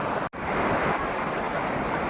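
Rushing water at Huai Sai Yai waterfall in the rainy season, a loud, dense, continuous roar of falling water close to the microphone with a brief dropout near the start.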